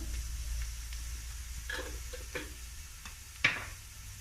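Spices in a pot for mutton curry are stirred over a soft sizzle, with a scattering of light scrapes and taps of the spoon and one sharper clink near the end.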